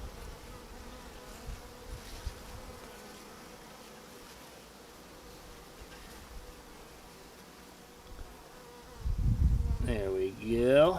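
Honey bees from a newly installed package hum and buzz softly and steadily, close by, with a louder, nearer buzzing swell near the end.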